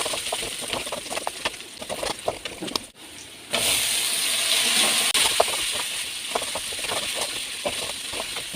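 Spiny brinjal and onion sauté in a pan for kara kulambu, giving a close, steady hissing sizzle that grows louder after a short pause, with light clinks of stirring throughout.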